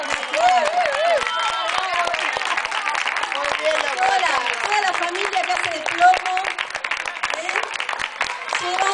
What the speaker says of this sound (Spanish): y un aplauso a los papás